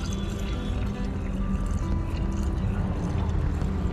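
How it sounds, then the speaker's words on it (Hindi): Water is poured into a car on a roadside stop in the mountains near the Chenab river at Ramban, a steady continuous splashing pour against a busy outdoor background. "भाई अपनी गाड़ी का ना पानी ख़त्म हो चुका था रात को, भाई पानी भर रहा है।"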